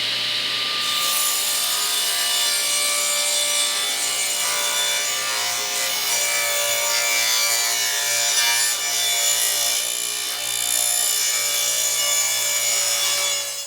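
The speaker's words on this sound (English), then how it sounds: "We're going to set up our table saw for the 45-degree cut on the top edge of the same board." Table saw cutting a 45-degree bevel along a deck skirting board, a continuous loud whining cut through wood with a steady high-pitched hum from start to finish.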